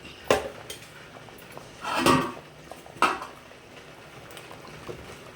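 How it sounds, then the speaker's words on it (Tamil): A pot bubbles steadily at a low simmer, broken by three louder bursts of bubbling or clatter. "நல்லா கொதிக்குது இன்னும் பத்து நிமிஷம் நல்லா கொதிக்கணும்"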